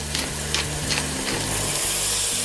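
Pepper being ground over a pan of sizzling food, a few rhythmic gritty twists of a mill riding over a continuous soft fry, close by.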